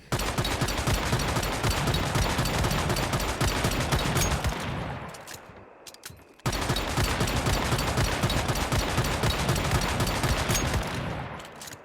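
Rapid, dense bursts of automatic gunfire from the Jaws gun in Once Human. Two long volleys, loud and close, are separated by a short pause.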